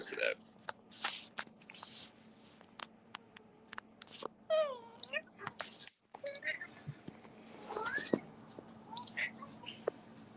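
A cat meows several times, including a clear wavering meow in the middle and more calls later, while a person talks and there is rustling and shuffling nearby with a low steady hum underneath.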